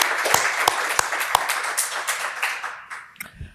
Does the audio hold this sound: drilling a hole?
no